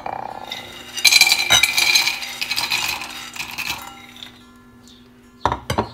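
Crispy fried macaroni snacks tumbling into a bowl with a run of dry clattering and clinking against the dish, busiest early on, then thinning to scattered taps and a final few sharp knocks.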